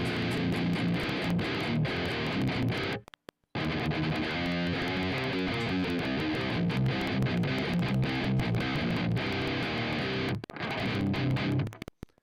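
An electric guitar plays through an amp and an Axe-Fx processor, producing a dense, loud, distorted wall of sustained chords. Two brief silent breaks interrupt the playing, one near the start and one near the end.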